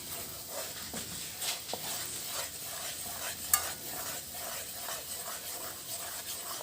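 Fenugreek stirred and toasting in a pan, a steady rhythmic scraping of spoon against metal over a soft continuous sizzle, close and alone with no voices.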